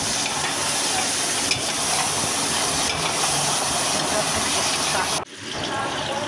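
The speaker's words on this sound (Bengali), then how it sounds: "আমরা এখানে পেঁয়াজগুলি দিয়ে দিয়েছি তেলের মধ্যে, দিয়ে এবার ভালো করে নেড়ে চেড়ে নিতে হবে।" Chopped onions fry in hot oil for a mutton dish, a loud, continuous close sizzle with stirring scrapes that drops away abruptly near the end.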